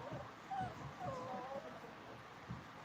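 A puppy whimpers and yips in high, thin whines, a few short cries close by at low volume with faint background voice.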